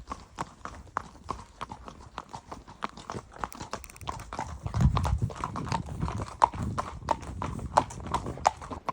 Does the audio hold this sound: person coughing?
no